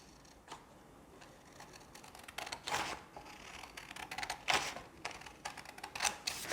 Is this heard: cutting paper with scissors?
yes